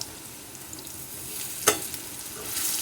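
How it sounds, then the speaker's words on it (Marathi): Masala bread toast browning in a pan, with a soft steady sizzle throughout and one short sharp crackle or clatter partway through, fairly quiet and with no voices. "सर्व बाजूने अशा पद्धतीने भाजून घ्यायचं त्याच्या कडा सर्व भाजल्या पाहिजेत"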